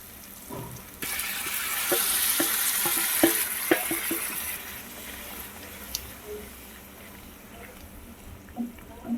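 Mushrooms hit hot oil in a masala curry, setting off a loud, steady sizzle that runs for several seconds, with scattered spoon-and-pan knocks from stirring throughout and a quieter simmer afterward.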